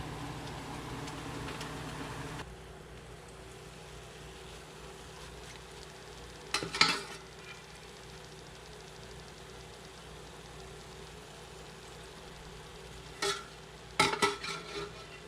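Onions fry and crisp in hot oil with a soft, steady sizzle, broken by a few short clattering bursts of stirring.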